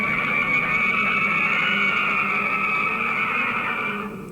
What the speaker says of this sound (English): That's the sound of a Helix nebula.